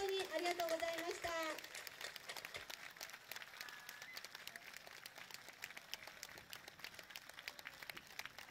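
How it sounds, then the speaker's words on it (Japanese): Scattered audience applause after a taiko drum performance at a festival in Izu, a thin patter of clapping that continues after a voice speaks at the start, fairly faint. "皆さん盛大な拍手をお願いいたします。"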